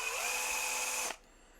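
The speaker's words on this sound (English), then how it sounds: "And then we can drill a couple of more holes in the middle, as many as you can fit in there." A power drill bores holes into the comb of a Hohner CX-12 harmonica, a steady loud whine that runs for about a second before cutting off abruptly.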